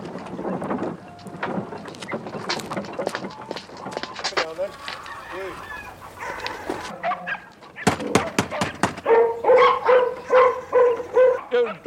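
Dogs bark in a rapid, loud volley near the end, following a stretch of talking and scattered noise, with a voice over the scene in a 1984 Sherlock Holmes TV drama.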